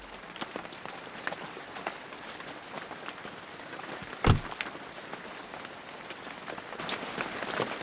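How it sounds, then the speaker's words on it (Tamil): Steady rain falls and patters on surfaces, a dense, continuous hiss with scattered individual drops and one louder thud partway through. "மழையா இருக்குன்னு தான சொல்றேன்"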